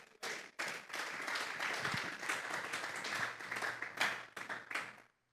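Applause from a church congregation during a sermon on praising God, a steady wash of many hands clapping for about five seconds, fairly distant and even, with a brief pause near the start and a low hum beneath.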